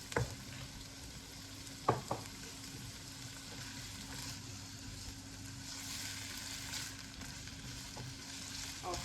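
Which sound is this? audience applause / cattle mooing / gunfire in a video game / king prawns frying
king prawns frying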